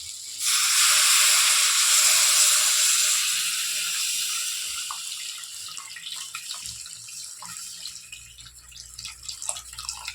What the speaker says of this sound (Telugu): కొంచెం వాటర్ పోసి పెట్టు